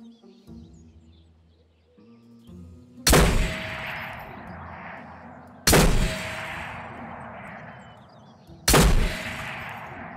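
Three loud, isolated sniper rifle shots ring out in the video game Ghost of Tabor, each a sharp crack with a long decaying echo, spaced a few seconds apart over quiet ambience.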